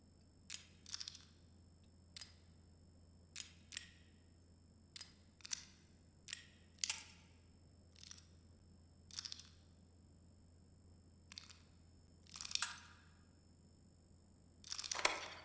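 Lockpicking clicks from the Roblox game Havoc: a series of about a dozen sharp, separate clicks at irregular intervals, some doubled, over a steady low hum, with a louder rattling burst at the end.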